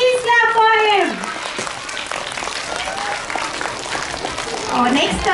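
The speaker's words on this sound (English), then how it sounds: "Everyone, please clap for him" Audience clapping at a primary school poetry recitation and storytelling competition, a sustained patter of many hands filling the room, with a speaking voice briefly at the start and again near the end.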